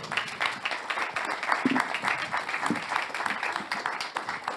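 An audience applauds panel speakers at a French urban-planning conference, with steady, dense clapping filling the room throughout and no voices over it.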